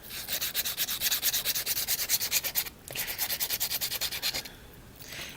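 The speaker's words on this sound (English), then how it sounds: "You can definitely tell something needs to be filed if you see ridges like this" An acrylic nail is filed in quick, even back-and-forth strokes, a close, crisp rasping rhythm that pauses briefly midway, then resumes before stopping near the end.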